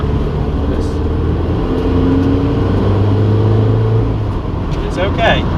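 A Toyota GT86 with a rebuilt forged engine and new clutch on a slow test drive in poor conditions, a steady low engine drone and road rumble inside the cabin beneath ongoing talk.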